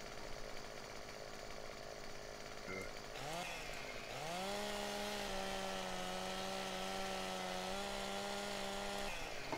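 In Landwirtschafts-Simulator 15, a chainsaw saws through a tree trunk. The engine whines upward as it revs, then settles into a sustained, steady, fairly quiet snarl that holds to the end.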